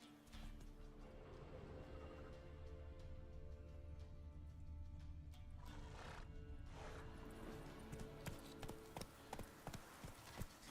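Roach the horse gallops in The Witcher 3, a steady run of hoofbeats with neighs and whinnies over a game soundscape and background music, fairly loud throughout with sharper hoof hits near the end.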